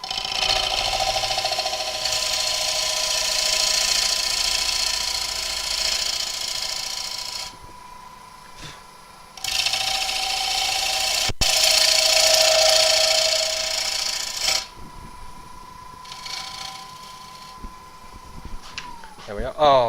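A sharp wood gouge cuts a scallop into the top of a lathe-turned rim, heard as a sustained whirring, scraping hum that stops and restarts in bursts, with a quieter stretch near the end.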